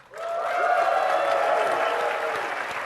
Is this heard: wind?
no